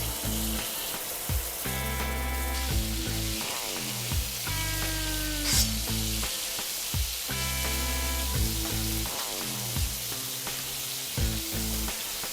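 Pork liver sears in a hot pan for a Filipino bistek-style dish, giving a steady loud sizzle and crackle throughout, broken by several ringing metallic tones in a repeating pattern over the frying hiss.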